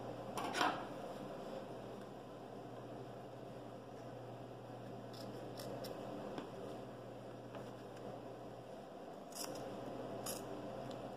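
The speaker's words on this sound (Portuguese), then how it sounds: "Primeiro a gente vai cortar essa linha." Scissors cutting fabric along a marked line to open a pocket, heard as a few brief close snips over a steady quiet room hum, with no talking.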